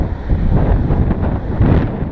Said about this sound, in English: she's windy, as you probably can hear.